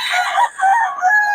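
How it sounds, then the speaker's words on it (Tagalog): A rooster crows once, close and loud, in a short, raspy call. "solid yung mga manok ni Boss Tony, mga idol."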